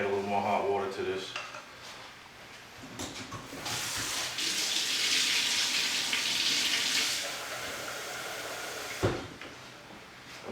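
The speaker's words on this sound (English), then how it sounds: "I'm going to add a little more hot water to this" Hot water runs and splashes into a container of salt brine being mixed for a whole fresh ham, a steady broadband pour building for several seconds alongside clinks and handling noises, close by.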